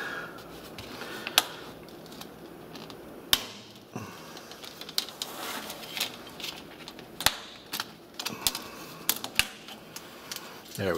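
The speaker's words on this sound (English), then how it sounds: "this is what's making all that noise. These little plastic clips just run all the way around the screen" Plastic bezel clips on an HP Pavilion g7 laptop screen snapping loose, heard as scattered sharp clicks and cracks of varying loudness over a faint background, close up.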